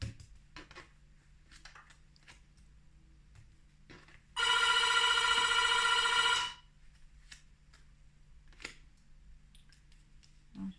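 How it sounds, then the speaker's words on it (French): A telephone rings once in a loud, steady burst lasting about two seconds, set against a quiet room with no talk. "Je suis désolée, ça sonne."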